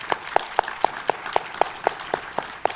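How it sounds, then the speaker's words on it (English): Clapping for a panel on protecting Black music rings out in a steady, evenly spaced rhythm of sharp, distinct claps, roughly four per second, close and clear. "Can we give them a round of applause?"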